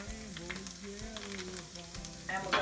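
Garlic and parsley sauté in a very hot pan, giving a steady close sizzle that runs under a speaking voice and swells near the end.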